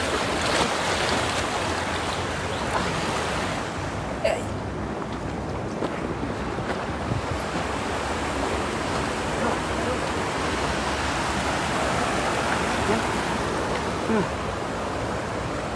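Strong rushing water at a village fishing spot, a loud, constant broadband roar close by, with faint voices talking now and then beneath it.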